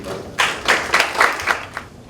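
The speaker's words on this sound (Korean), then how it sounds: "큰 박수로 맞아주시기 바랍니다." A small policy-forum audience claps to welcome a speaker, a handful of distinct, close claps in an irregular rhythm rising out of a quiet room.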